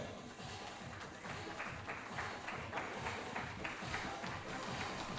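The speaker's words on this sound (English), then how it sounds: "Gentlemen, we can have the round of applause a little more louder." Round of applause from the audience at the Goodwill Awards ceremony, dense steady clapping that swells slightly louder partway through and holds at an even level throughout.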